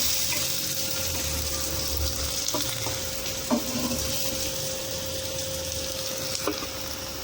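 Halwa fish pieces fry in hot oil with a steady, close sizzle running throughout, broken by a few faint clinks of a utensil; no one speaks.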